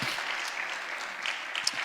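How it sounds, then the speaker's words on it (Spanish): A church congregation claps together, a dense steady patter of applause at moderate distance filling the room with no pauses. "Dale un aplauso al Señor, por favor."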